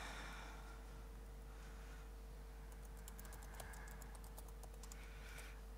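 Keys on a computer keyboard are struck in a quick, uneven burst of clicks, close and quiet, over a steady low electrical hum.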